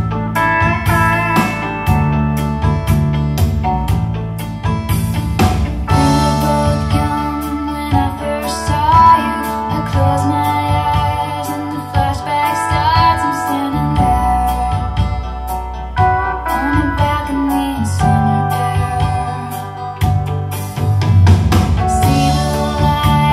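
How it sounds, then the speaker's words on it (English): Yamaha Genos keyboard playing a modern country style with pedal steel guitar voice, a full steady arrangement of bass, drums and gliding steel lines, loud and continuous with no talking. "So we have absolutely amazing pedal steel guitars"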